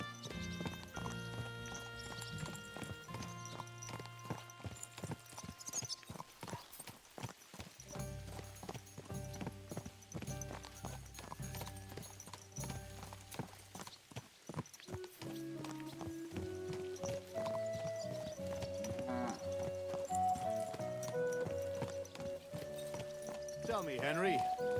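Horse hooves clip-clopping at a riding pace in the medieval game Kingdom Come: Deliverance 2, steady rhythmic hoofbeats under a bed of orchestral music and tonal game sounds, continuing for the whole stretch.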